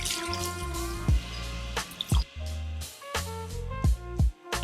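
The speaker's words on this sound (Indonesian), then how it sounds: "kita siram dengan air biasa secukupnya" Plain water poured onto a potted silver Scindapsus pictus houseplant indoors, heard as a steady close trickle with soft splashes and intermittent drips, ongoing for several seconds with no talking.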